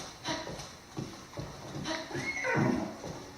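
A horse trots through a village in the video game Zelda Breath of the Wild with a rhythmic clip-clop of hooves, then snorts and gives a short whinny near the end.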